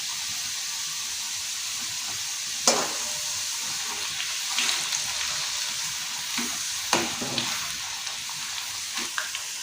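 Potato chips frying in oil, a continuous crackling sizzle and hiss with occasional sharper pops and stirring clatters, close and steady with no talking.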